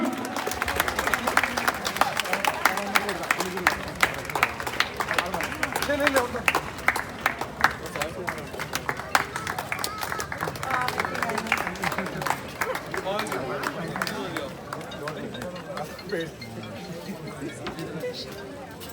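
Handball champions receive medals at a championship prize ceremony to sustained crowd applause, dense clapping that carries steadily and slowly thins toward the end, with a voice talking over it throughout.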